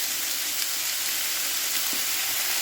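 Jackfruit and softening onion sizzle steadily in a hot pan, a close, continuous crackling fry with a few brief stirring clicks and no talking.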